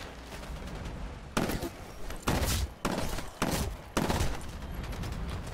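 Automated turret fire in the video game Titanfall, heard as a few loud bursts of gunfire separated by short gaps over continuous game noise.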